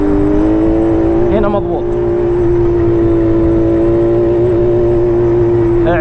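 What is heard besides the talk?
Yamaha Banshee ATV quad bike engine running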